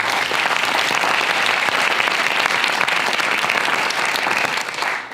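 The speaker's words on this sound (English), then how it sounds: "Okay, that was about a kind of 4 or 5 on the applause level." A festival audience at a performance in a large hall breaks into dense, loud applause that holds steady throughout and fades slightly at the very end.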